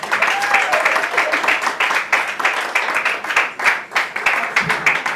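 An audience at an African women in real estate gathering applauds a speaker, dense sustained clapping that holds steady for several seconds, fairly loud and close.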